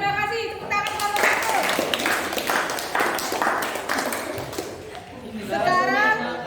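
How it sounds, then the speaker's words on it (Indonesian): Classmates applaud the first group after its food-product practicum presentation in a classroom, a burst of steady clapping in the middle with voices, including children's, talking before and after. "Tepuk tangan kelompok"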